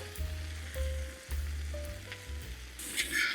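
Vegetables and ramen stir-fry together in a pan, a quiet steady hiss of sizzling with a few stirring touches and low humming tones underneath, growing brighter near the end.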